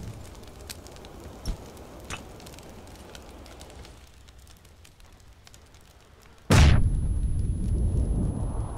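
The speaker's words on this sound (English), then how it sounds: "Oh, that was a real grenade." A grenade goes off in the battle royale game PUBG: a single sudden loud blast partway through, followed by sustained heavy rumbling noise, after a stretch of quieter background crackle and faint pops.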